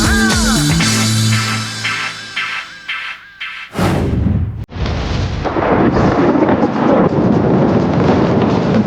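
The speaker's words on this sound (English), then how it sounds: "Unfortunately, the rain continued, so Jay and the boys had to saddle up for a long, wet ride" Rain hisses steadily and a loud rumble of thunder rolls in on a motorcycle ride, following musical tones in the opening seconds, then a sharp crack and sustained heavy wash of rain.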